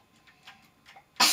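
A single sharp sneeze bursts out loud and close at the end, after a quiet stretch of faint, scattered clicks and soft room sounds.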